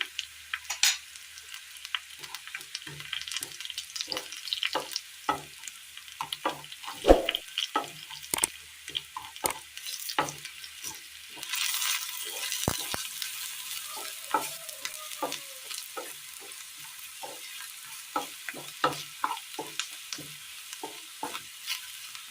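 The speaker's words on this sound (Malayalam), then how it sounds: "ചൂടായ എണ്ണയിലേക്ക് കടുകിട്ട് കൊടുക്കാം" Mustard seeds crackle and pop in hot oil, sharp irregular bursts over a soft steady sizzle, close and fairly quiet.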